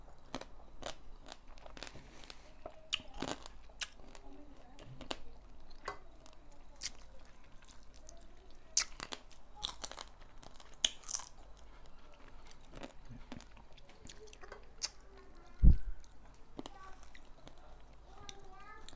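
Spicy fresh blue crab salad being eaten, with close, crisp crunches and wet chewing scattered throughout and one sharp louder bite near the end, over a quiet background.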